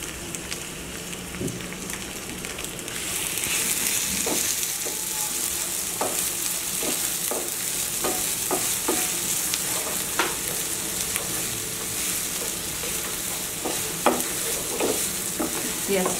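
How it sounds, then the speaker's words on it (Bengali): Chopped onions sizzle in oil with kalo jeera for chingri posto, and a spatula scrapes and stirs them in repeated strokes. The frying hiss is close and steady and grows louder after the first few seconds. "পেঁয়াজটা আমি একটু লাল লাল করে ভেজে নেব"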